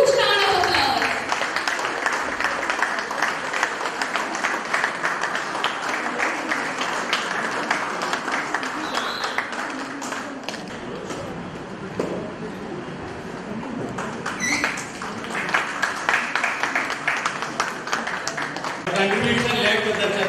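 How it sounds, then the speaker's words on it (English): Steady applause from an audience at a community heritage contest and prize-giving event, a dense wash of clapping that continues for the whole stretch at a fairly even loudness, with voices mixed in. "Please give a huge round of applause."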